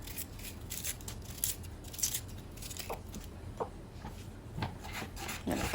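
Knife slicing a peeled onion into thin strips on a cutting board, a run of short close scraping and cutting strokes at an uneven pace with a faint low room hum underneath.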